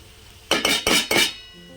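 A spoon scrapes and clinks four times in quick succession against a pan of jeera rice with carrot cooking on low flame, crisp and close, alone against quiet background.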